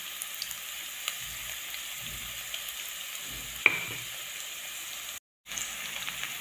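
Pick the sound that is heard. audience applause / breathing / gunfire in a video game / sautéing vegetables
sautéing vegetables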